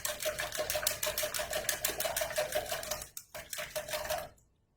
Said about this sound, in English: I'm going to take our mini whisk, and I'm going to mix this up